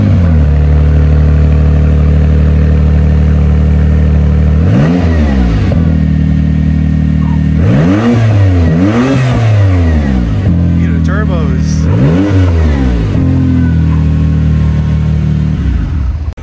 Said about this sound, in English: now we're just gonna rev it just for fun without any muffler or anything